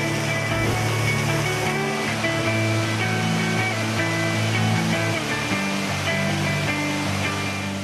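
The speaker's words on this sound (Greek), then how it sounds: "Αυτό είναι το δεύτερο ποτάμι που φτιάχνει καταράκτη" A waterfall formed by a river at Skra gives a steady, loud, broad rushing roar of falling water that carries on without a break.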